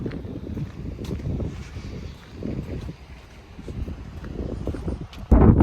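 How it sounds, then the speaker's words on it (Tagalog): Strong wind buffets the microphone in uneven low rumbling gusts, ending in a sudden louder blast. "Tapos medyo malakas ang hangin"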